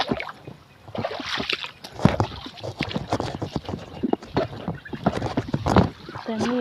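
Footsteps slosh and splash through shallow water on a rural walk, irregular wet strides close by, with people talking over them.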